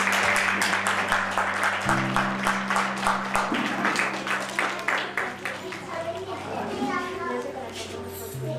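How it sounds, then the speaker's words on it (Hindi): Clapping from a gathered crowd at an art workshop, steady applause carrying through while someone speaks over it and children's voices mix in, with a low sustained hum underneath. "तालियां नहीं रुक रही।"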